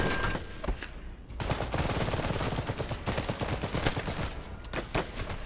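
Machine gun fire rattles in the video game Iron Harvest, dense rapid bursts and overlapping gunshots forming a loud continuous barrage with sharp individual cracks.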